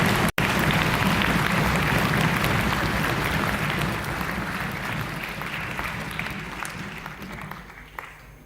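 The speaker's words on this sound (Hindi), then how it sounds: "जोरदार तालियां मीना जी और उनके साथियों के लिए।" A large audience claps steadily and densely for about eight seconds at a children's session in the Rajasthan Legislative Assembly in Jaipur, honouring Dr. Meena Sharma and her team. The applause fades slightly toward the end.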